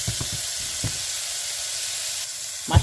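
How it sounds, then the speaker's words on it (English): Mushrooms fry in olive oil in a pan with a steady, close sizzle, broken by a few soft knocks from stirring and a louder clatter at the end. "I will continue frying it until it's golden brown."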